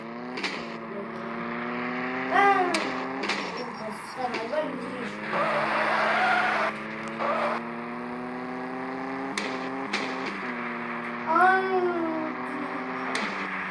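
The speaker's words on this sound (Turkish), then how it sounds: "araba çok kayıyor ya" A car skids with its tires burning, making harmonic engine whine and squealing sweeps that rise and fall, with a loud rough burst of tire noise in the middle and people talking over it.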